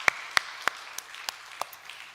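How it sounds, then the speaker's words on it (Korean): A church congregation gives Easter applause, sounding as a sparse run of about eight separate, fairly distant claps that thin out over two seconds in a reverberant hall. "우리 그분께 박수로 영광 올려드립시다."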